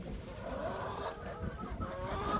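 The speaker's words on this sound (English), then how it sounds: "Oh, chicken babies." Chickens cluck and chatter continuously over a steady background rumble, with a few higher calls rising out of the flock.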